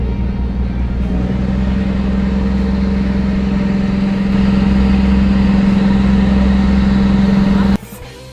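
Steady low engine rumble from inside a car riding on a ferry heading to the mainland, a loud continuous drone with a constant hum that cuts off abruptly near the end.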